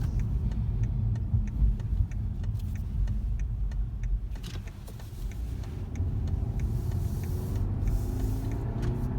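A 2017 BMW 530i in sport mode accelerating from inside the cabin, a steady low engine drone with road rumble and rattling ticks throughout, rising slightly near the end.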